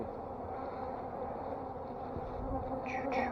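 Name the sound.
honey bees buzzing and bouncing off a veil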